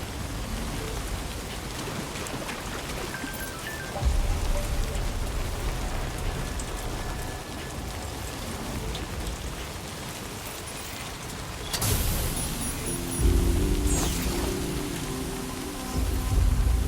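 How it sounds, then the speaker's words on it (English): Steady rain in Death Stranding 2 pours down throughout, a constant hiss of drops on surfaces, with a couple of brief louder swells. "It's raining again."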